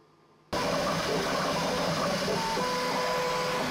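A Bambu Lab X1 Carbon 3D printer starts up abruptly after near silence, then runs with a loud, steady whirring fan and motor hum, with shifting whining tones from the moving print head; no talking.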